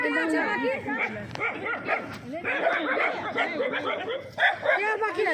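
A pack of dogs barks and yips excitedly and continuously, close by, mixed with people talking over the commotion.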